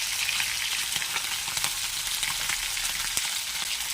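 Dried red chilies fry in oil while a sour hilsa fish dish with dried mango powder is being prepared, giving a steady, dense crackling sizzle throughout with small pops and faint stirring.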